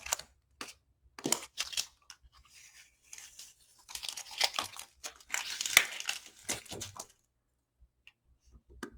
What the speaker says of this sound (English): when you take your tape off, always kind of pull away from your paper in case it grabs it